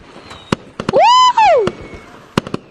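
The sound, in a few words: fireworks in video game Gorilla Tag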